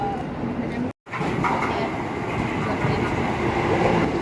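A KRL commuter train bound for Bogor rumbles steadily at Nambo station, a continuous loud rolling roar close by with a brief dropout near the start, while people talk nearby.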